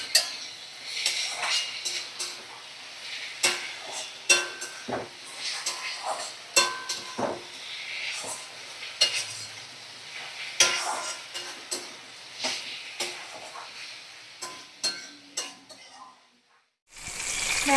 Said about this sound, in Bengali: এখন এই ভেটকি মাছ নুন হলুদ মাঝখানে ভাজা করে নিচ্ছি